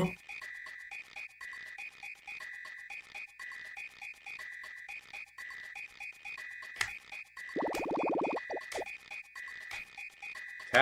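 Repeating electronic croaks from tadpoles in the SNES game Super Mario RPG, pulsing steadily over a chiptune loop, with a louder, low buzzing croak burst about two-thirds of the way through.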